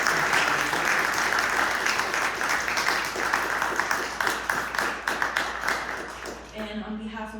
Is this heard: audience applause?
yes